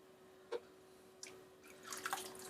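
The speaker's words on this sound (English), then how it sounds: "I'm just adding a few drops of water in there." A few soft drips of water fall into a small shaving bowl holding shave-stick soap, scattered and close, followed by a brief wet trickle near the end.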